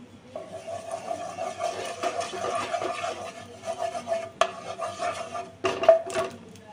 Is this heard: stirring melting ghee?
yes